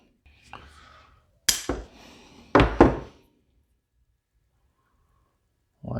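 A small ridged nail has its head snipped off with cutters in a workshop: two sharp metallic clicks, then a light tap, close and brief, with quiet stretches between.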